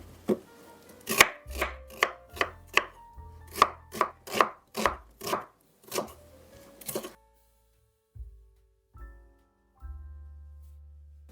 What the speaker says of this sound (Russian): Также режу лук.